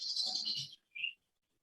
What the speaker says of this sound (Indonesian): Kamu pelihara burung apa itu?